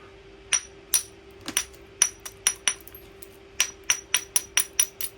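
Sharp metallic hammer strikes on a Jack Crafty Special aluminium block while spalling, about sixteen close, ringing hits in an uneven rhythm with short pauses, under a steady low hum.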